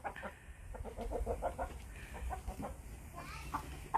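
Chickens clucking with a rooster among them on a farm, a steady run of mid-distance fowl calls layered over low rumbling background noise, with a brief louder burst at the very end.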